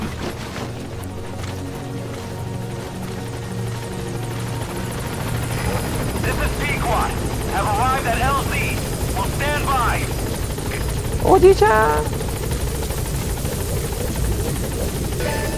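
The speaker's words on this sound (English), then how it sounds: "Support helicopter has arrived." A support helicopter arrives in the Metal Gear video game, its rotor drone building steadily alongside game sound effects, while a person speaks Japanese over it and a brief louder burst rises near the end.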